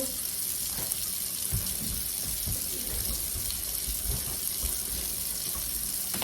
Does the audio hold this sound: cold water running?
yes